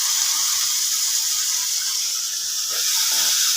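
Steady loud hiss of vegetables sizzling in hot oil as potato, pumpkin and more go into a pan of mixed veg with fish head, a continuous frying sizzle with brief shifts as pieces drop in.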